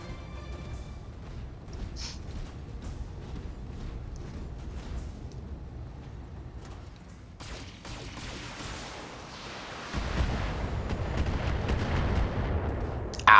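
Mech weapons firing in BattleTech, a rumbling run of booming shots and distant blasts that swells into a louder, sustained barrage toward the end.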